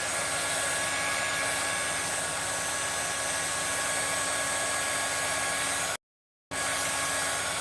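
A hair dryer blows steadily on fresh paint, a loud, constant whooshing hum that runs unbroken, cuts out for a split second, then resumes at the same level.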